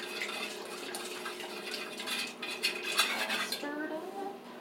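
Melted candle wax is stirred in a metal pot with a utensil, giving steady scraping and clinking that builds into a busier burst of clatter before fading to a quiet liquid swirl, fairly close.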